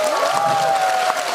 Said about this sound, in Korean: 아유 실장님들 박수 한번 주세요.